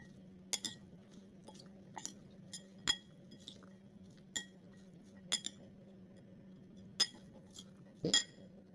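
Chickpea salad tossed with dressing in a bowl produces scattered, sharp clinks and taps of a utensil against the bowl over a low, quiet background, irregular and spaced apart.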